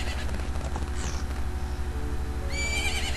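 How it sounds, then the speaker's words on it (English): A horse whinnies in The Legend of Zelda: Majora's Mask, a high wavering neigh near the end over a steady looping game background with rhythmic hoofbeats. "Isn't that your horse?"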